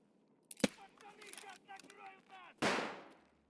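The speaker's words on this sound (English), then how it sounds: "But we throw the nade deep." A thrown grenade detonates in the Escape from Tarkov video game, a single loud blast with a decaying rumble near the end, preceded by a sharp click and someone talking.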